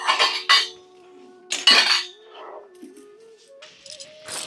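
Metal utensils and dishes clatter and clink in a few sharp bursts with quieter gaps between, close and fairly loud, with a faint ringing tone lingering beneath.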